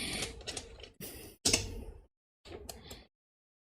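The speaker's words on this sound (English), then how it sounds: "It's been hard for me to shuffle tonight" Tarot cards being shuffled by hand in short, close, papery bursts, four or five quick riffles separated by brief silent gaps, with no voice.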